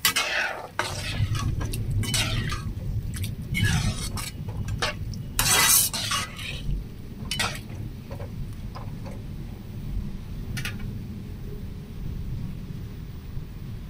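An egg and pumpkin curry, with a little water just added, is stirred in a pan, making repeated scraping and clattering strokes over a low bubbling simmer, close and fairly clear with no talking.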